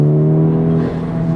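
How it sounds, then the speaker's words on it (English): A manual car's engine revs up and eases back during a rev-matched downshift to third gear, a loud, steady tonal drone heard from inside the cabin. "Right to 3rd gear, the car downshifted nicely, it rev matched"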